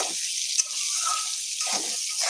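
Eggplant frying in a pan gives a soft sizzle with brief bursts of stirring and scraping, and the background stays quiet between them.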